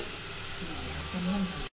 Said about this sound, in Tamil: கத்திரிக்காய் வணக்கிறதுக்கு அம்மா கொஞ்சமாக விளக்கெண்ணெய் ஊற்றுனாங்க